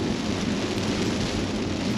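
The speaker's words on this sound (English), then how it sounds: "But it's raining." Heavy rain pours steadily with a dense hiss and a deep, rolling thunder rumble underneath, loud and continuous throughout with no voices.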